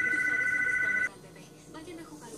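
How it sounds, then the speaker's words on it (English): A telephone rings indoors in a single steady electronic tone lasting about a second, then cuts off, leaving low room noise and faint movement. "the phone was ringing and I had to pick it up"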